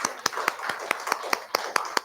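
Church congregation claps to welcome newcomers and returning members, about ten sharp, evenly spaced hand claps over two seconds, close and fairly loud, without talk.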